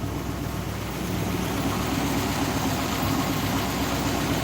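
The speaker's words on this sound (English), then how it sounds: "It does idle real well." A classic Ford car engine with a failing oil pump and an original carburetor idles smoothly and steadily, a close, even low rumble throughout with no talking.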